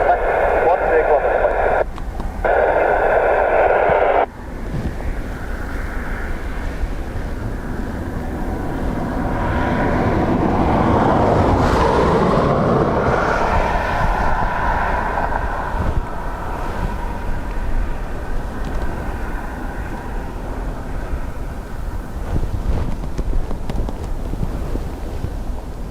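An aircraft passes at Dublin Airport, a jet roar that swells and fades over the middle of the clip beneath wind noise, after an opening burst of radio-like tones.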